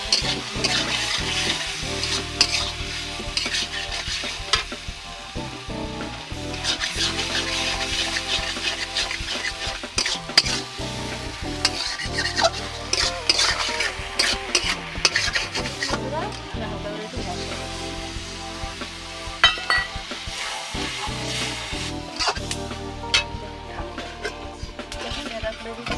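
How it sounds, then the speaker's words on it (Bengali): Lati (taro stolons) stir-fried with spices in a pan for a Bengali home dish, giving a steady sizzle with repeated scraping strokes throughout, while a voice talks over parts of it. "লতিটা ভালো করে একটু কষে নিতে হবে, যাতে সব মশলাগুলো ওর মধ্যে"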